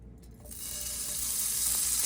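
A little butter hits hot olive oil in a pan over medium-low heat, starting quiet and then rising quickly into a steady, close, bright sizzle that holds to the end with no talking.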